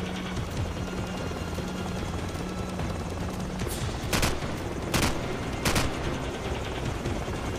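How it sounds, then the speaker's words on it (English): Helicopter in the video game Call of Duty 4 flying over a battle, a steady loud rotor roar with bursts of gunfire and sharp cracks of shots breaking through it several times, no voices. "that helicopter is going incredibly slow"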